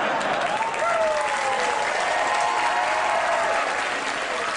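Loud, steady applause from a late-night talk show studio audience greeting guests, sustained for several seconds with dense clapping and some crowd noise.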